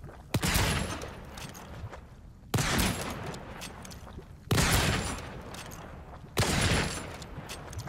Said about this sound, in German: Die Schüsse fliegen nach unten